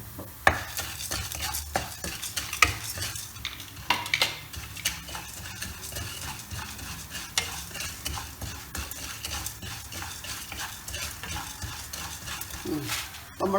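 Dried red chillies dry roasting in a pan for dosai milagai podi, with a spoon scraping and rattling them continuously, close and fairly loud.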